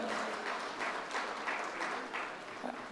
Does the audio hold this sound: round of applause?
yes